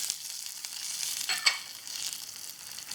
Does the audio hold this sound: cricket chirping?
no